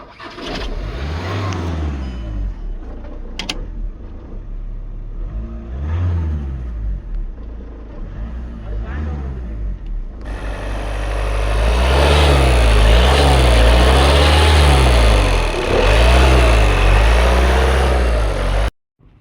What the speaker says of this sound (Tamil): இப்போ நம்ம வண்டியோட ஸ்டார்டிங் வீடியோ பார்த்துடலாம்.